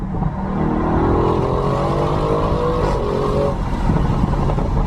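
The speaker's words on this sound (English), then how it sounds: "I'm going to put this down so you can hear the motor little crackle" A Bentley GT3R sports car engine revs loudly and steadily, its pitch rising and sweeping, with a gritty crackle from the exhaust throughout.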